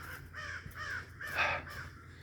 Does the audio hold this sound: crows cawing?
yes